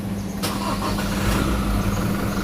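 A Toyota Hilux Champ with a 2004 Euro 5 engine cranks and catches, settling into a steady, loud idle rumble heard up close with no talking.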